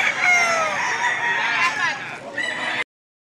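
A fighting rooster at a gamecock market in Lipa, Batangas crows loudly and close, one long drawn-out call that ends abruptly.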